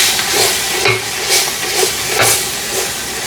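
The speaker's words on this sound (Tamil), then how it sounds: "அதையும் போட்டு ஒரு கரண்டி போட்டுட்டு மிக்ஸ் பண்ணி விட போகிறேன்." A ladle stirs chilli powder into a mutton biryani masala, giving loud hissing sizzle and steam with repeated scraping strokes about every half second, close up and with no talking.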